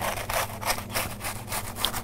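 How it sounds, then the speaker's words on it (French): Serrated knife sawing through vanilla millefeuille pastry, a rapid back-and-forth rasping of crisp layers, close and steady with rhythmic strokes. "je découpe le millefeuille délicatement"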